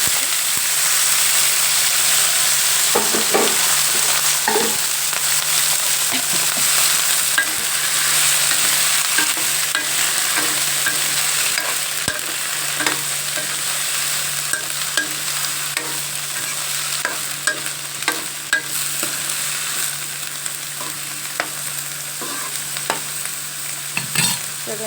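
Ridge gourd fries in a pan with a continuous loud sizzle, while a spoon scrapes and taps in frequent stirring strokes, close up and without talk.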